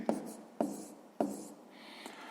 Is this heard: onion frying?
no